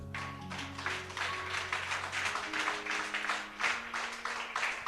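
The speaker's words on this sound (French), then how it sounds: "Acclamons fortement notre Dieu." A church congregation claps in a steady, rhythmic beat, loud and close, with sustained musical tones underneath at the start.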